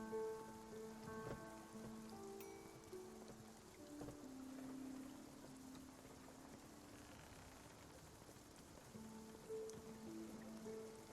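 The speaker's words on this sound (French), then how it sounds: "Oh, mais il pleut tout le temps, mais c'est terrible cet endroit." Steady rain falls in the video game Spiritfarer, a soft continuous patter with scattered droplet taps running the whole stretch, joined by faint tonal game music and occasional small clicks, with no talk over it.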